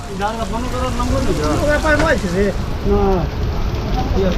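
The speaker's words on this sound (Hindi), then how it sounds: "जबरदस्त बारिश हो रही है" Steady, dense roar of heavy rain at Saharsa Junction railway station continues throughout while someone talks loudly over it.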